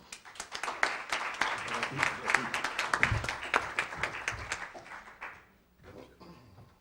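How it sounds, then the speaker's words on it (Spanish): A modest audience at a book presentation claps, distinct individual claps close by forming a lively irregular patter that fades out, followed by a brief quieter stretch. "Un aplauso para él."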